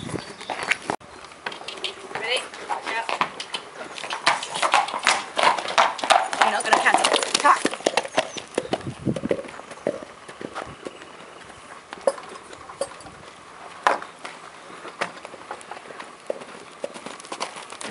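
Several horses or ponies move about outdoors with a steady run of hoof clip-clops, moderately close, while people talk over them throughout.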